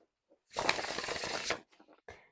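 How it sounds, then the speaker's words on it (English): A single quick burst of tarot cards with a linen finish being shuffled, lasting about a second, followed by a few soft taps and shuffles. "I'm gonna give it a shuffle."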